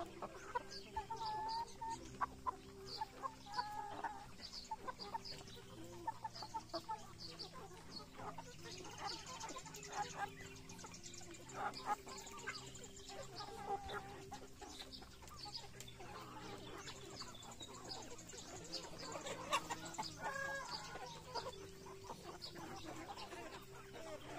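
Five-month-old upgraded native chickens cluck and call steadily in a rural yard, a busy, continuous flock chorus with occasional louder clucks and faint voices in the background.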